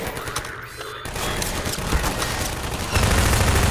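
Rapid bursts of player gunfire in the video game Half-Life 2, a dense fusillade of shots that swells louder toward the end, with no voices over it.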